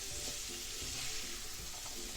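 Boiled chickpeas dropped into a pan of hot spices with a little water, giving a steady, close hiss of sizzling and frying with faint stirring underneath and no talk.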